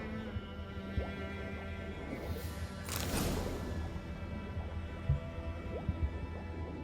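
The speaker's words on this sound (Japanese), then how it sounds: "水の音がリアルだな" Water in the video game Witcher 3 sloshes and gurgles with soft squishy drips, a brief rushing splash in the middle, and scattered small plops over a low steady ambience.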